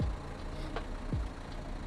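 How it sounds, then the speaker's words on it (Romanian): Car engine started remotely through a phone-controlled alarm system, settling into a steady low idle that hums evenly throughout, close by, with no talking. "motorul mi-a pornit."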